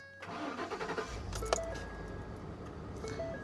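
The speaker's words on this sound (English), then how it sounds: "we'll go into the truck and try starting the engine" A truck engine powered by a TOPDON JS2000 jump starter cranks with a short burst of rhythmic chugs, catches with a sharp rise, then settles into a steady idle close by.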